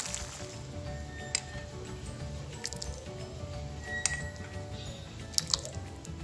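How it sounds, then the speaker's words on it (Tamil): Bitter gourd kuzhambu moved from a pan on a switched-off stove into a bowl, heard as soft wet squishing and dripping with a few sharp clinks of a utensil, close and fairly quiet. "நான் ஸ்டவ் ஆஃப் பண்ணி ஒரு பவுல்ல மாத்த போறேன்"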